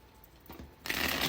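A Runic Tarot card deck being shuffled by hand: a short soft riffle that swells into a louder, dense flutter of cards near the end, close and alone.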